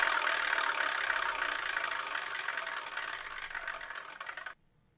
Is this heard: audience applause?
no